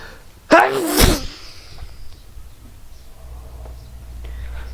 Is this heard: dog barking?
no